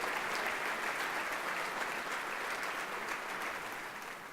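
An audience at a fundraising dinner applauds Roger Sitt, a dense, sustained burst of clapping from many hands that tapers slightly toward the end, with no talking over it.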